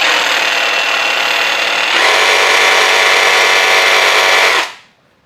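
Bosch GSA185Li cordless brushless sabre saw running free in the air, a loud close buzzing drone that steps up in speed and intensity midway as the variable trigger is squeezed deeper, then winds down to silence.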